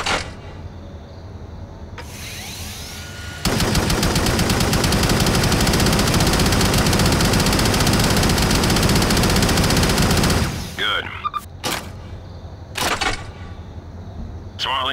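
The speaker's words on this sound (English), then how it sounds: "Use your minigun to kill all the enemies." A minigun in Shadowrun unleashes one long, loud, unbroken stream of rapid fire lasting about seven seconds, followed by short clattering bursts and quieter game sounds.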